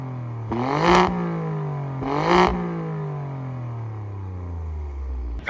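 An Alfa Romeo Stelvio Quadrifoglio NRING Edition engine revs twice in sharp bursts, its exhaust roaring up and falling back, then settles into a low, throaty idle that slowly winds down.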